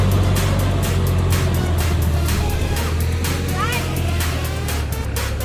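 A tractor ploughs tight, hard soil in a village field, its engine giving a loud, steady low drone that runs unbroken through the whole stretch, with some faint voices underneath.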